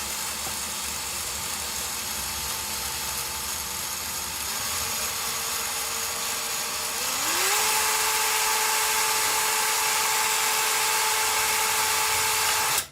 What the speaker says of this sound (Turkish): tahtamızı havaya kaldırarak bu şekilde delme işlemine devam ediyoruz